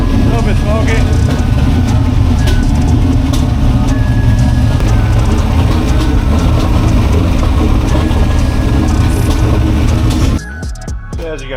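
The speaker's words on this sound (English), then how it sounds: "That turbo is spooling." A Camaro fitted with a 100mm turbo runs with its turbo spooling, a loud, continuous close engine roar that drops off abruptly near the end.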